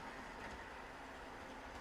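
A model train runs along layout track with a steady, even rumble and faint rolling clatter, continuous and fairly close throughout.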